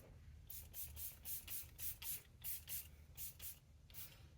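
A Sephora Collection setting spray mists onto a face in about a dozen quick, soft spritzes, each a short hiss in an uneven rhythm, faint and close with no talking.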